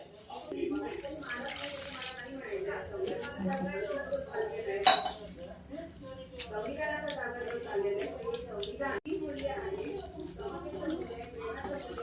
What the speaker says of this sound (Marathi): फिरवून घ्यायचं